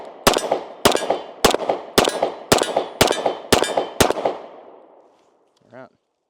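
A Kimber CDS9 pistol fires 147 grain rounds in eight sharp, loud shots at a steady pace, each crack ringing out briefly before the next, followed by a short pause and a faint clink.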